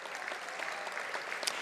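Banquet guests at a university academic and athletics awards dinner give a short round of applause for an assistant women's soccer coach, with moderately loud, steady clapping from a room-sized crowd.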